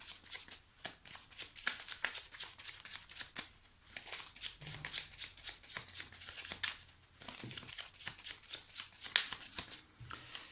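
Petit Lenormand oracle cards being shuffled by hand, a close, rapid run of crisp riffling flicks that pauses briefly and resumes, with no talking.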